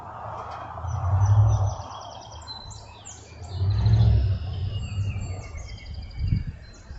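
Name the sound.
flock of birds chirping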